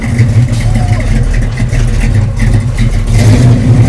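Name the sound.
1967 Chevrolet Chevelle SS 396 engine running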